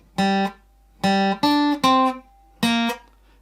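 Five separate plucked guitar notes from the first bar of a song, unaccompanied, spaced unevenly with short silences between them, clean and fairly close.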